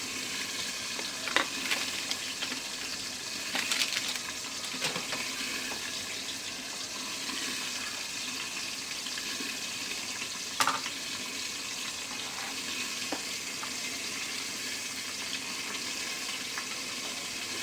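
Fish frying in hot oil gives a steady close sizzle with scattered sharp spatters and pops throughout, with no talking.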